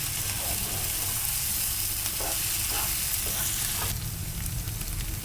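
Okra and tomato sautéing in a pan make a loud, constant sizzle, with a few scraping stir strokes cutting through the frying hiss.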